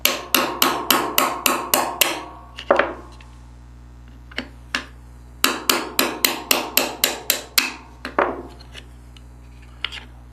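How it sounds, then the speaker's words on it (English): A 1/8 inch roll pin punch is hammered to drive pins out of a Smith & Wesson M&P45 frame, with two rapid runs of sharp metallic strikes, about a dozen each, with a few single taps between them, close and loud. "I'll take my 1/8 inch roll pin punch, put it on top of the pins, and drive them all the way down"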